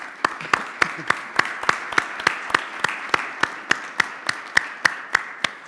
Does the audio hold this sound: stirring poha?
no